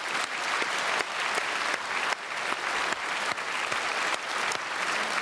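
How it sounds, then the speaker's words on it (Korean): A church congregation at a Sunday worship service at Myungsung Church applauds steadily, a dense, even wash of many hands clapping that holds at full strength throughout without pause. "박수로 축복하겠습니다."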